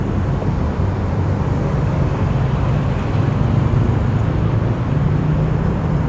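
Traffic noise on Rama IV Road in Bangkok heard while stopped at a red light, a steady, loud, broadband rumble of idling and passing vehicles with no clear individual events.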